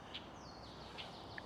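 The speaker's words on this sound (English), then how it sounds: "I hope you guys can hear the birds." Faint, sparse bird chirps, a few short high tweets scattered over a quiet outdoor background hiss.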